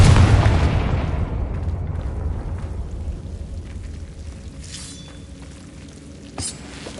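A Confringo spell explosion in Hogwarts Legacy lands as a heavy boom that rolls into a long, fading rumble, followed later by a small sharp pop.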